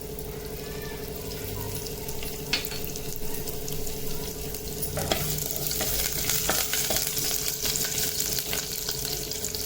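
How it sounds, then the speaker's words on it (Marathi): Garlic frying in well-heated oil for a sorghum (jowar) soup, a dense continuous sizzle and crackle close up that grows a little louder and busier as it goes, with occasional scrapes and no voices. "तेल चांगलं तापलं की त्याच्यामध्ये लसूण टाकून घ्यायचा आहे"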